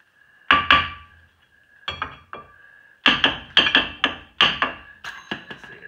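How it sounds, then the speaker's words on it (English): Sharp metallic taps from a big hammer on a rusted car rear-end part, in quick clusters of two to four strikes, ringing slightly, close by with short pauses between bursts. "grab a big hammer and kind of tap on it"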